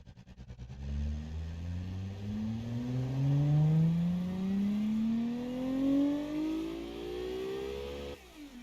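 A racing car engine in a video game revs up through rising gears, its exhaust note climbing in pitch and growling steadily before dropping away at the end.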